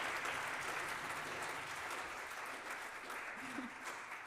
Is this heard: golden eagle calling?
no